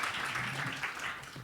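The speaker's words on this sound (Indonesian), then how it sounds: "Sekali lagi kasih tepuk tangan buat Pastor Diki dan Miss Regina." A seminar audience gives sustained applause for Pastor Diki and Miss Regina, a steady, dense wash of clapping throughout, fairly close.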